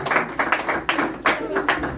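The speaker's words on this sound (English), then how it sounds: "A big round of applause." A congregation at a Celestial Church of Christ service in Dublin claps in uneven, surging bursts that swell and fade several times, with voices mixed into the clapping.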